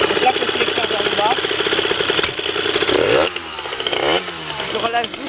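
A Sherco motorcycle engine runs steadily close by as the rider releases the clutch and pulls away, its rattling buzz holding loud and then dipping and rising as it accelerates, with a voice talking over it.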